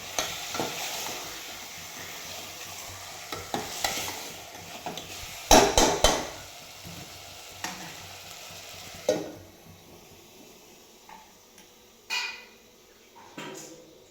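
A spoon scrapes and clanks around a pot of mutton curry in several separate strokes, with a low sizzle of cooking underneath.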